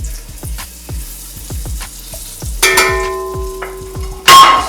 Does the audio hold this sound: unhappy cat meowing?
no